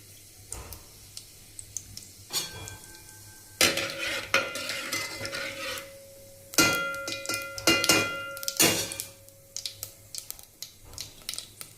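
Cumin seeds fry in hot oil in a pan while being stirred, giving a crackling sizzle with scraping and clinking of a spoon against metal in uneven bursts, close by with no talking.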